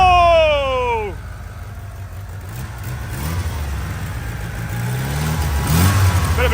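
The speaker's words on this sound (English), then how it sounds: "Bit of an exhaust leak somewhere." Mitsubishi Eclipse barn find, sitting three years, revving with an exhaust leak and a slight miss; a rising engine note fades into a rough, uneven idle and another rev, close up.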